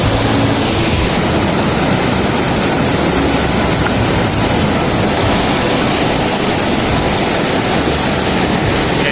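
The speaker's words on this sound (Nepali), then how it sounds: "यो चाहिँ रावा खोला।" The Rawa river rushes under a concrete motorable bridge, a loud, dense, unbroken roar of fast-flowing water that holds steady from start to finish.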